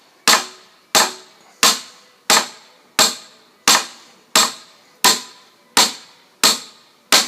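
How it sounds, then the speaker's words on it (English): A post being pounded deep into the ground, eleven sharp metallic impacts at a steady rhythm of roughly one every 0.7 seconds, each loud and close with a short ringing decay. "pound that down so it's deep all the way down into the post"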